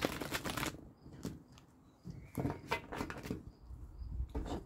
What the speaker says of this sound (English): shuffle 8 times